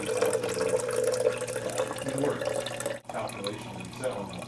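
Tap water runs steadily into a large deionized-water jug being filled toward the 1,000 millilitre mark in a lab, a continuous mid-level gush with a brief dip near the end.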